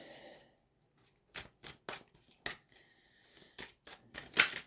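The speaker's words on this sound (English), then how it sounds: "let's get the next cards shuffled" A deck of tarot cards is shuffled close by in a series of short, crisp riffling bursts with brief pauses between them, quiet and without talk.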